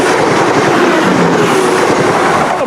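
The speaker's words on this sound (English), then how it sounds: "Here comes that West Midlands Railway service, 170 501" West Midlands Railway diesel unit 170 501 runs past the Wombridge crossing near Telford, a loud, close, continuous rumble with rhythmic clickety-clack of wheels over rail joints and a faint squeal.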